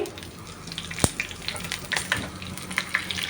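Green chillies dropped into canteen-style cabbage curry frying in a pan, a moderate sizzle with one sharp knock and then quick crackling bursts as they hit the oil.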